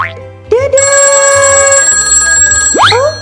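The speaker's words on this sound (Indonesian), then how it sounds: "Oh, ada telepon nih." A telephone rings in a children's cartoon, a loud sustained electronic ring tone that starts after a brief rising sound and holds for about two seconds, ending with a quick upward chirp.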